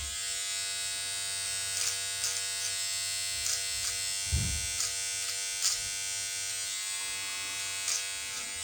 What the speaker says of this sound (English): I'm going to continue trimming.